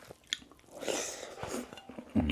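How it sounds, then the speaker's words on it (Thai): Close, soft chewing and biting of a mouthful of Mon-style fish curry with rice, wet and crunchy in texture, ending in a brief louder bite. "เดี๋ยวชิมเนื้อปลาดู"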